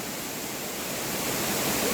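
Tall waterfall on Mount Sago roars as a steady, dense rushing wash of water noise, loud and constant, with no speech.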